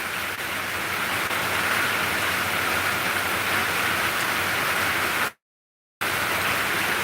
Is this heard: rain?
yes